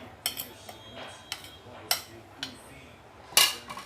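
A metal spoon taps and scrapes against a cake pan while smoothing batter, producing sparse, sharp clinks at irregular intervals over a quiet kitchen background.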